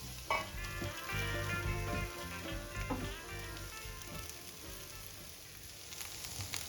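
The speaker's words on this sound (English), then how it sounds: "I'm frying the vegetables until I get this charred look, shaking it a few times so it won't get burned." Vegetables stir-fry in sesame oil on a hot skillet, a steady close sizzle with crackling spatter and a few louder scraping, tossing bursts early on, then a quieter continuous frying hiss.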